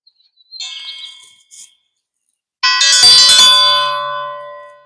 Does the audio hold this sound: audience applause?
no